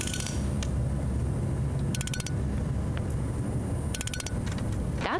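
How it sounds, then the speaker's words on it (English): A mobile weather station cart in Tempe logs data every three seconds: short bursts of rapid high mechanical ticking sit over a constant low background rumble, recurring a few times. "That's the sound of data being collected every 3 seconds."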